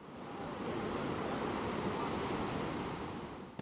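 Rough ocean surf breaking on a Bali beach where fishermen work nets, a steady close roar of crashing waves and wash that swells in and holds throughout, with wind noise and no voices.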